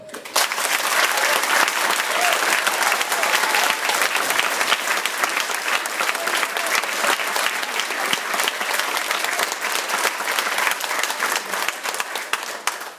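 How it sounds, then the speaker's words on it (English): A crowd at a Brandon Sanderson book signing in Manchester claps in steady, dense applause that holds for the whole stretch, with some voices mixed in. "please give a big, big round of applause for Brandon Sanderson"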